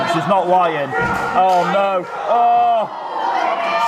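Wrestling arena crowd at a UK wrestling show cheering and shouting loudly, with rising chants and surges of noise under an excited commentator talking throughout.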